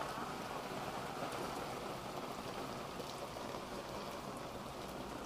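Heavy hail pouring down over Sofia, a dense, unbroken roar of countless ice pellets striking surfaces nearby, loud and steady throughout with no voices and no pauses in the clatter.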